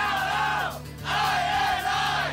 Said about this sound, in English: Lots of people yelling out the ILL, I-N-I.